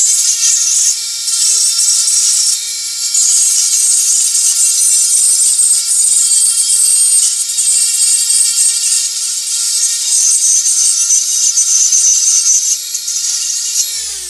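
A Dremel flex shaft fitted with a Typhoon burr carves wood, letting out a continuous high-pitched whine with a grinding edge that runs almost without a break, close and loud, then cuts off at the end.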